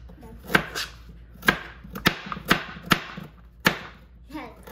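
A knife slices through firm carrots on a board, sharp crisp strokes at an uneven pace, with quiet movement sounds in between.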